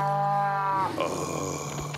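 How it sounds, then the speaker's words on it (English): A herd of cows lows in an animated adventure scene: one long, loud, steady moo that bends upward at its end, then gives way to rustling background noise, with no voices. "We just surrounded a bunch of cows."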